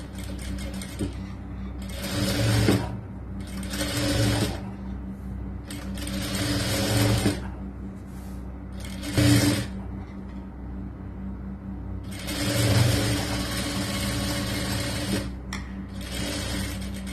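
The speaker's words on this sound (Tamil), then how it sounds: "அதே போல அடுத்த கை துணிலையும் ஓர தையல் போடலாம்" Sewing machine stitching the sleeve lining of a churidar top, running in repeated bursts of steady rapid whirring with short stops between seams, close and clear, no speech.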